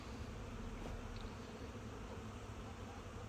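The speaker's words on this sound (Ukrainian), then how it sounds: "плюс бджоли літають." A faint, steady hum of honeybees flying around hives in late March, continuous and soft, with no voices.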